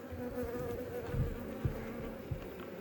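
Honey bees around a hive buzz in a dense, continuous drone, close and steady, with a few individual bees swelling louder as they pass near.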